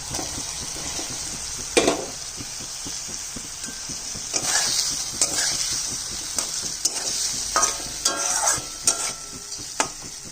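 Paneer goes into a pan of cooked spiced masala and fries with a soft continuous sizzle, broken by several sharp stirring scrapes and clinks of a spatula against the pan, fairly quiet and close.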